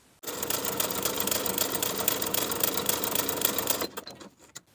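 A sewing machine runs basting stitches along the top of a dress sleeve, a quick continuous mechanical whirr for several seconds that stops abruptly, followed by faint handling clicks.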